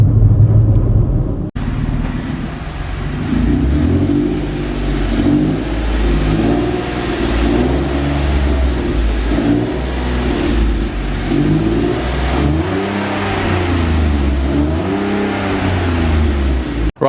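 Audi A3 3.2 V6 with traction control off, loud close engine revving hard through a long sustained acceleration with rising and falling pitch sweeps as the wheels spin, after a brief quieter start.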